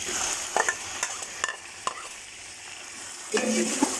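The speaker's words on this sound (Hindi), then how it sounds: "इसको थोड़ी देर इसमें अच्छे से भूनेंगे ताकि चिकन की जो अपनी स्मेल होती है वो ख़त्म हो जाए" Boiled chicken fries with ginger and garlic in a pan, with scattered scraping stirs and clinks, moderately close, no voices.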